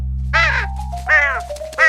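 Three loud, harsh caws from a cartoon crow, spaced about a second apart, close and clear over a low steady hum.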